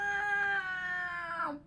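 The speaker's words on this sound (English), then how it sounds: "but it sounds like meow, meow," A cat gives one long, drawn-out meow that slides downward and fades at the end, close and clear, with no talk over it.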